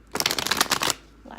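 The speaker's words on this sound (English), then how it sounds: "Last shuffle." A quick burst of tarot cards being shuffled, a dense riffling flutter lasting under a second, close and fairly loud, then quiet.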